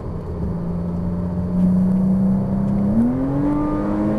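A Ferrari 458 Italia V8 accelerates on a race track, its loud, steady engine note holding then climbing sharply in pitch as revs rise, close and continuous throughout.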